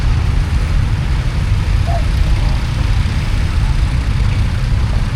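A steady, low engine rumble from a vintage tractor at a tractor parade idles continuously, loud and unbroken, with a constant mechanical drone throughout.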